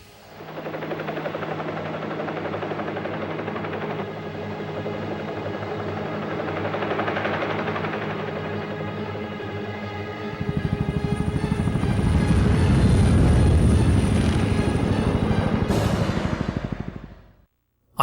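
Helicopters in the video game Geist, a steady close rotor chop with rhythmic thumping that grows heavier and louder midway, with turbine whine and a brief burst like gunfire before it cuts off abruptly.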